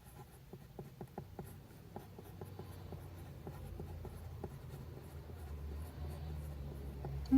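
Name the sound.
Pilot Kakuno fountain pen writing on Tomoe River paper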